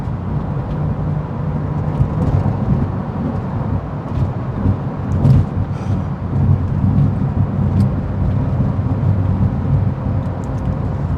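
A 2018 Porsche 911 Carrera S drives on winding back roads, its engine a steady, loud, low rumble through the whole stretch, with road and wind noise and no voices.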